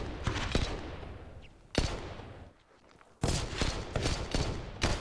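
Counter-Strike gunfire on the Mirage map, with several sharp shots in quick bursts, then a lull, then another cluster of crisp reports at moderate distance over steady background noise.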